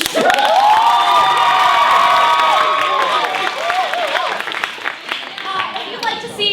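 An audience bursts into loud applause and cheering, with whoops and high-pitched shouts rising over the clapping before tapering off slightly near the end.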